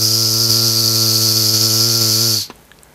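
A voice imitates honeybees buzzing in flight with a loud, steady, close-up drone that holds evenly for over two seconds, then cuts off abruptly, leaving near silence.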